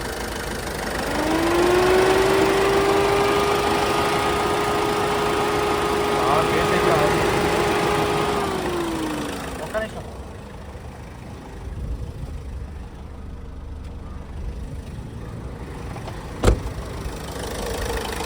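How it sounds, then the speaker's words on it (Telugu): A 2016 Ford EcoSport Titanium Plus diesel idles close by with the air conditioning running, a steady droning hum that drops away partway through, leaving a quieter, even engine murmur with a sharp click near the end. "ఇంజన్ ఎంత సైలెంట్ అంటే అంత సైలెంట్ ఉంది"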